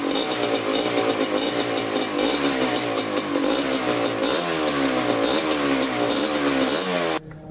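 A rebuilt Kawasaki Tecate 250 quad engine runs loudly up close with the throttle repeatedly whipped, its buzzing two-stroke note rising and falling in pitch through several revs before cutting off abruptly.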